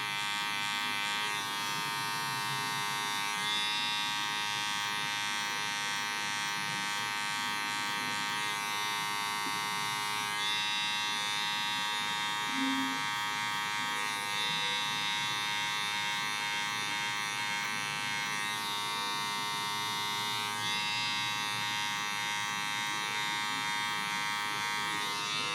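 Electric hair clippers buzz steadily and close up while cutting a self-given taper, a constant motor drone that shifts slightly in pitch as the blade moves through hair, with no talking.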